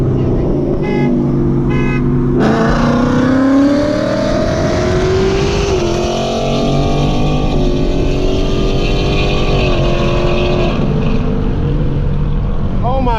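Loud engines of a stock Mustang GT and a tuned Ecoboost Mustang roar close by during a race, with rising pitch through rapid gear shifts of a 10-speed transmission and a brief horn-like toot early on.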